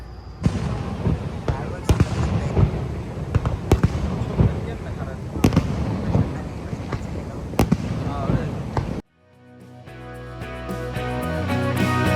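Fireworks at night at Niagara Falls: a steady roar of crowd and falls-area noise punctuated by sharp crackling bangs at irregular intervals, ending abruptly and giving way to music.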